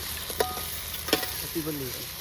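A desi tempering sizzles and fries on a village clay stove during night cooking outdoors in a farm field, with a steady close hiss and two sharp spoon-against-pot scrapes as it is stirred.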